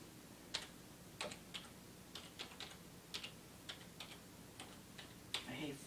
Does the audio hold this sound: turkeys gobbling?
no